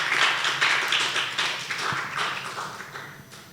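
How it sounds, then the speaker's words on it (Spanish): Church congregation clapping together in praise, a bright, sustained wash of many hands at fairly close range that slowly thins out and fades toward the end, with no voices over it. "Un aplauso a Dios."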